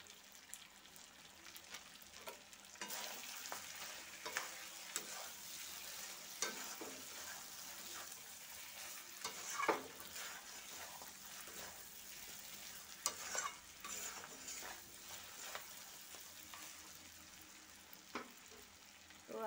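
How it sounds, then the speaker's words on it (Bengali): Meat being stir-fried with spices in a pan for a Bengali kosha, a steady close sizzle broken by scraping stirs at irregular intervals, with no talking. "এখানে দেখো মাংসটা আমার খুব ভালো করে কষানো হয়ে গেছে"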